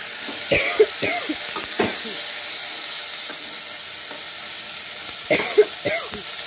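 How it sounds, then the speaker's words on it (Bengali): Vegetables sizzling in hot oil for idli and sambar, a soft, steady fry with a few brief stirring clicks and knocks near the start and end. "সবজিগুলো তেলে দিয়ে"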